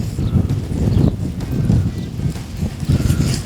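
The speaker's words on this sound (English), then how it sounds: "Very windy day today, as usual." Steady, loud wind buffeting the microphone outdoors at a barbecue grill, with a low rumbling roar and gusty fluctuations throughout.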